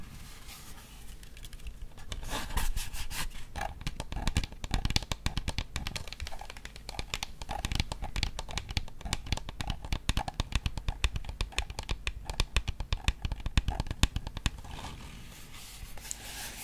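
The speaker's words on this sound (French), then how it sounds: "Regardez, regardez la belle beauté de cette manette Xbox Series." Plastic clicks, taps and light rattles come from an electric green Xbox Series controller being handled up close, a steady patter of small contact sounds with no talking.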